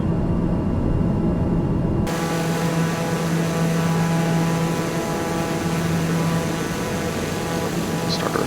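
Light airplane engine eased back to idle on descent into Lukla, a steady low drone with faint tonal hum running continuously, the cabin noise loud and close throughout.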